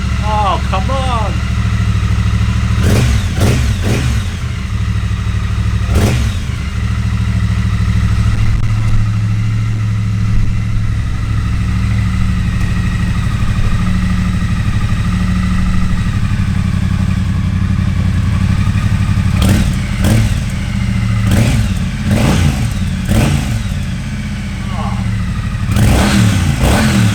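A 2020 Triumph Street Twin motorcycle engine idles loudly up close and is revved in repeated sharp bursts, with someone talking over it between blips.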